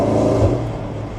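Porsche Panamera GTS engine revving loudly, a deep booming roar that swells and then eases off into a steady rumble, close by with no talk over it.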